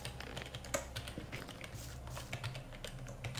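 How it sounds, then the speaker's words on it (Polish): Computer keyboard keys pressed in quick, uneven taps during a Gothic game session, faint and close, over a low steady hum of game background sound. "nie słyszycie za bardzo mnie naciskającego na klawiaturę"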